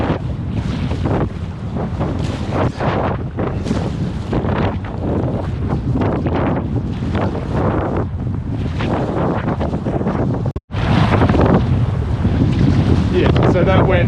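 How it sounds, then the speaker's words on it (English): Strong gusting wind buffets the microphone while a packraft is paddled against an eddy on open water, loud rushing bursts rising and falling continuously with a brief dropout near the end. "paddle across here against the eddy and against the wind"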